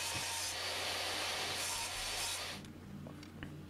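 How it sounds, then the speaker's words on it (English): Purpleheart wood trim being ripped to half-inch width with a saw, a loud steady whining cut that stops abruptly, followed by the motor winding down and a few faint knocks. "the next part was to just rip down the Purpleheart trim to the appropriate width"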